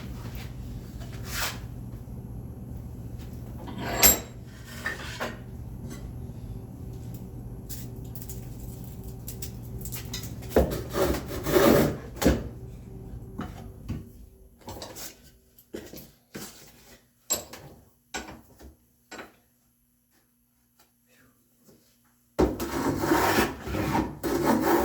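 A wooden back panel for a spice rack is scrubbed down by hand, giving close, scratchy rubbing strokes in bursts, a near-silent pause, then the scrubbing resumes.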